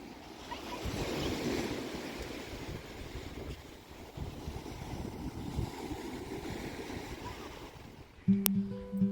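Ocean waves at the beach surging and washing in a soft, steady roar with some wind on the microphone, fading slightly before a brief sharper noise at the end.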